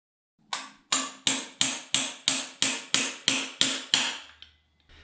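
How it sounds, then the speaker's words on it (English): Ten sharp metallic hammer taps drive a socket onto a tube during seal installation on a forged 4.6 engine, in a steady, even rhythm, close and loud, with a brief rattle at the end. "I'm just going to use a socket and a hammer to tap it on in there"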